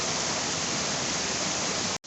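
Waterfall at Sitakund in Mayurbhanj pouring steadily, a dense, loud, unbroken rush of water close by that cuts off abruptly at the end.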